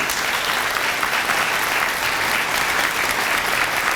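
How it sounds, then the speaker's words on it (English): Steady, dense applause from a large audience honoring teachers at a leadership forum event, loud and continuous throughout with no pauses. "Give our teachers a round of applause"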